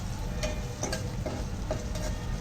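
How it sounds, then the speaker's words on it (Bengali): Green chili, onion, ginger and garlic frying in a pan give off a soft, even sizzle heard close up, with a few quiet taps and scrapes from a stirring spoon. "কাঁচামরিচ পেঁয়াজ আদা রসুনটা একটু ভালো করে ভেজে নেব"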